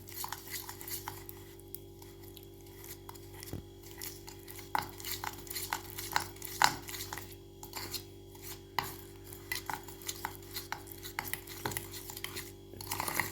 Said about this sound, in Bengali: ওরিও বিস্কুটের ভেতরে যে যে ক্রিমটা থাকে সেইটা আমি নিয়েছি তার মধ্যে হাফ চামচ তেল সাদা তেল দিয়েছি সেইটা একটুখানি ফেটিয়ে নিচ্ছি